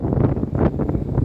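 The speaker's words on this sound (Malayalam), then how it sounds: "കാറ്റിൻ്റെ തീക്ഷ്ണത കുറച്ച് കുറഞ്ഞിട്ടുണ്ട്, എങ്കിലും നല്ല കാറ്റുണ്ട്." Strong wind buffets the microphone on the open deck of the Cordelia Empress cruise ship sailing from Kochi to Mumbai, a steady loud rushing roar with gusty swells throughout.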